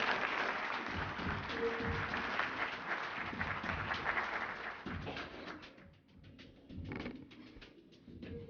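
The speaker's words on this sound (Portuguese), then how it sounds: "Uma salva de palmas, por favor," An audience applauds at an award ceremony for a São José Operário medal honoree, a broad wash of clapping that thins and fades toward the end, with a few cooing birds heard within it.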